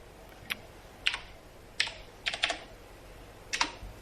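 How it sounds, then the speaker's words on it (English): Typing on a computer keyboard while entering a text duration in Windows Movie Maker, heard as a few separate key clicks and short clustered taps spread over about four seconds, moderately close against a quiet room background with no talking. "now you're going to type in the text duration"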